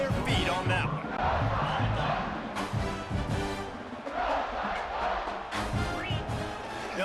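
A stadium crowd in College Football 26 roars and cheers after a punt return, a dense, swelling wash of noise with bursts of louder excitement rising and falling throughout.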